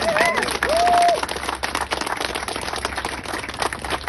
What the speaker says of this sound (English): let's give another big cheer for Bram Stoker